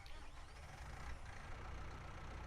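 Diesel tractor engine in Farming Simulator 19, a small in-game tractor with a low, steady rumble throughout, close and continuous with no talk.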